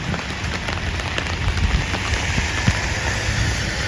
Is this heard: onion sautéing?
no